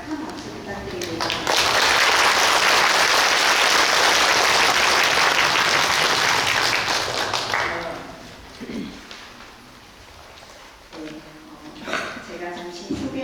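An audience at a Buddhist academic conference marking a Cheontae temple's 50th anniversary bursts into loud, sustained applause for several seconds. The clapping then fades into scattered claps and room noise, with a voice speaking near the end.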